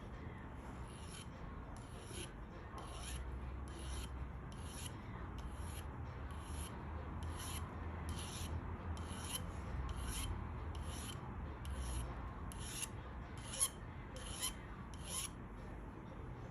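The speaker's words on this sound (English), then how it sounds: "So you notice how I'm filing down toward the tip" Rhythmic metal filing rasps along a jewelry bezel, working toward the pointed tip of a pear-shaped cabochon setting: about fifteen evenly spaced, crisp strokes over a quiet background hum.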